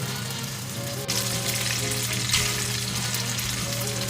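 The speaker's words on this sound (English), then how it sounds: "now we make sauce with a little plant butter, some garlic, and lemon juice" Loud, steady frying sizzle of pasta in a sauce of plant butter, garlic and lemon juice, continuous and close, with a brief stir or added food intensifying it partway through.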